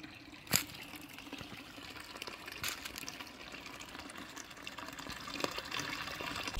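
A mountain valley stream flows steadily beside a trail near Dobongsan, a soft continuous rushing and trickling with a faint thump early on, heard up close.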